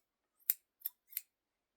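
Metal scissors from a sewing tin snip or clack three times in quick succession, sharp, crisp and close in otherwise quiet surroundings.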